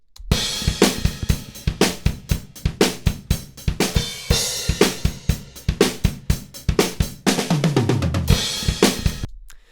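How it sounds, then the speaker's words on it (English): A full drum kit plays a steady rock beat, kick and snare hits punching regularly under washy cymbals, ending with a tom fill. "what we have here are some drums that I recorded out of my home studio"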